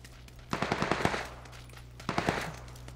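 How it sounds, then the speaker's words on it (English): Video game gunfire crackles in two rapid automatic bursts, about six shots then three or four more, moderately loud over a quiet steady background hum. "Can't tell if they're shooting at us or shooting at them or shooting at somebody else."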